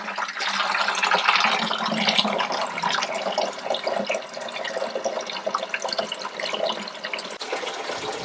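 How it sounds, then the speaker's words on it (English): Water drains out of pipes at a rural homestead with wood boilers and grain bins, a close, loud splashing gush with trickles and drips that tapers off near the end, no talk. "I'm draining as much water as I can out of here"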